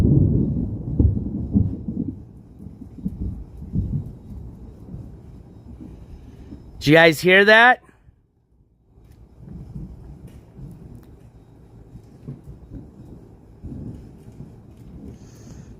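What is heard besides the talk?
thunder from a thunderstorm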